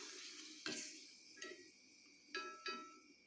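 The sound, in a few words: potato fryums frying in hot oil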